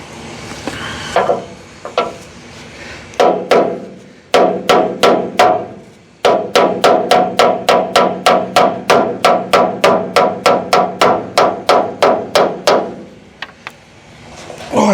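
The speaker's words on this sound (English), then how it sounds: "I'm gonna grab a hammer and see if I can destroy the fuel cap." Sharp metallic hammer blows on the fuel cap of an old Caterpillar D8 bulldozer ring out one after another, a few scattered strikes first, then a long steady run of rapid, loud, evenly spaced hits.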